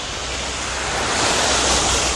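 Ocean waves wash onto a sandy beach with a steady, loud, broadband roar of surf that swells slightly louder midway, with no voices.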